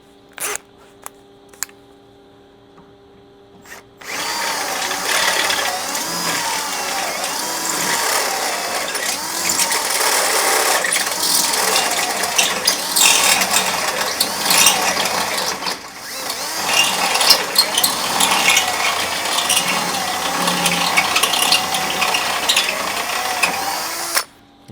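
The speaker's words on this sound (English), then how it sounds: "Now we're going to use the stepper bit, and you want to make sure it goes up to a 1/2 inch." Step drill bit boring a half-inch hole into the steel frame of a Toyota Tundra for rock slider installation, a loud harsh grinding that runs for about twenty seconds with a brief dip midway.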